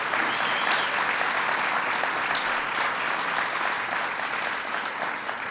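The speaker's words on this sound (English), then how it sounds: "Let's give Mr. Harrigan and the Teamsters a round of applause." A crowd at a Governor Cuomo fair-pay campaign rally applauds Mr. Harrigan and the Teamsters union, a dense, steady roar of clapping that holds loud and even for several seconds without voices.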